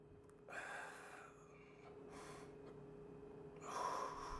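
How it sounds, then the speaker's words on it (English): Deep, slow breaths during a yoga flow session, several audible airy inhales and exhales at a gentle pace, soft and close, with quiet room noise between them. "3 more breaths"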